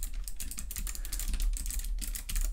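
Rapid, close-up typing on a Sofle split mechanical keyboard with Choc low-profile switches: a quick, uneven run of soft clacky keystrokes, with no voices.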